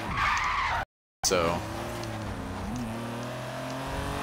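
Car skidding and drifting under hard e-brake use in Forza Horizon 3, a loud sustained tire squeal with engine drone after a brief cut, and a short spoken word near the start.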